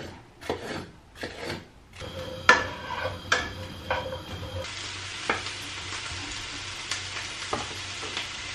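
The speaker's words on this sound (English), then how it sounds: "So I've got the tofu frying here" Tofu coated in corn flour sizzles in a frying pan, a steady close crackle broken by stirring scrapes and knocks against the pan, with no talk.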